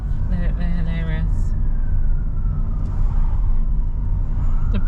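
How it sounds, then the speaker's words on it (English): Emergency vehicle siren on a street near a roundabout, wailing through heavy traffic rumble, briefly prominent early on then fading beneath engine noise. "Look at the sirens."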